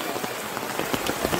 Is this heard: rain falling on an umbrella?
yes